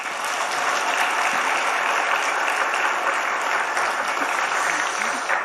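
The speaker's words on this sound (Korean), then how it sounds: "마하나임 찬양팀을 위해서 우리 박수 한 번만 더" A church congregation gives sustained applause for the Mahanaim worship team at an evening service, a dense wash of clapping that stays even and full from start to finish.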